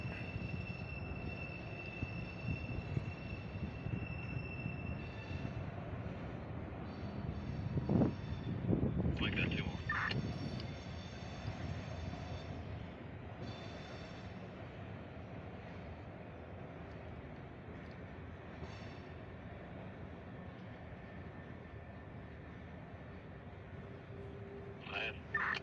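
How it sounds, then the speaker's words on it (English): Norfolk Southern freight train climbing a hill, its engine sounding the horn for a nearby crossing: faint sustained horn tones over a low rolling rumble of wagons, heard from a distance, with some talking nearby. "That's the Norfolk Southern engine blowing for it."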